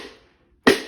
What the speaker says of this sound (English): putting the stick on the drum head and clicking the stick on the rim. That's called rim click.